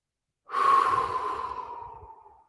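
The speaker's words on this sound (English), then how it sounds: "a good inhale and a good exhale for 4 seconds" A single long, deep exhale during a breathing exercise. It starts suddenly after a moment of silence, sounds airy and close, and fades gradually over about two seconds with no talking.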